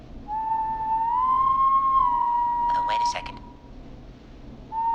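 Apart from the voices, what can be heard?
whistling in video game Killer Frequency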